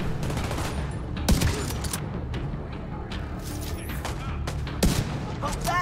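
Gunfire in the video game The Division 2 comes as steady bursts of rapid shots with a couple of sharper, heavier bangs standing out, loud and continuous, while a player talks over it.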